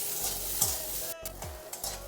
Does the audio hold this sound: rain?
no